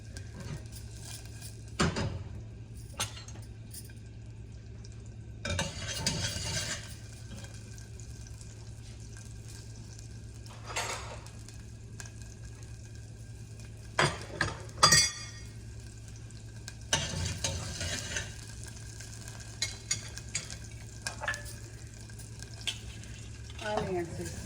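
Green chillies fry in a pan as a spoon stirs them, a low steady sizzle broken by several louder scraping and clattering bursts, with faint kitchen noise in the background.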